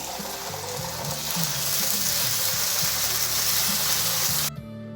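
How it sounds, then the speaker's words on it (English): Ginger garlic paste sautés in a pan for a calamari chilli fry, giving a steady sizzle with a low rhythmic scraping or stirring underneath, close and moderately loud, ending abruptly near the end; no speech. "So let's saute this for a minute."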